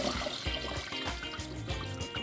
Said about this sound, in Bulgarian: Заливам го с 3 литра вода.